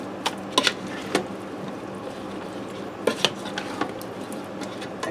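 Sliced potatoes being stirred in a hot Ninja Foodi pressure cooker pot, with sharp utensil clinks and scrapes against the metal insert coming in scattered bursts over a steady low background hum.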